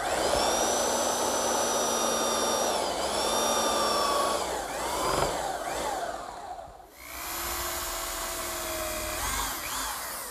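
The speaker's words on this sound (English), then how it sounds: "now I'll just use my belt sander to remove the excess dowel" Belt sander grinding off an excess wooden dowel, a loud continuous whining motor with shifting pitch as pressure changes, briefly easing near the middle before resuming, no talk.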